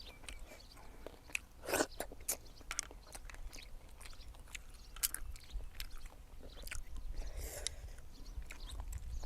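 Crunchy chewing on Thai papaya salad with apple snails, a close, quiet run of crisp bites and crunches repeating irregularly with no talk.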